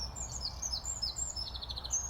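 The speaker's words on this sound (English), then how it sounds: "There's the wren." A wren sings in a dawn chorus near the edge of a village, giving a fast run of high, bright trills and chirps in quick bursts over a low background rumble.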